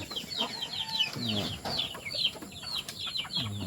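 Chickens cluck and chicks cheep continuously at close range, a busy overlapping mix of low clucks and shrill, rapid peeps.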